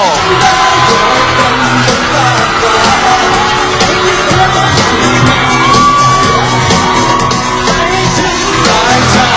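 Fans scream and cheer at a concert stage show, a loud, dense crowd roar of shrieks and yells heard close over the music, sustained throughout.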